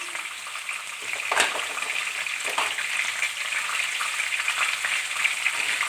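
Chicken pieces fry hard in a karahi over a high flame, giving a steady, close, bright sizzle with a sharp burst early on, with no voices.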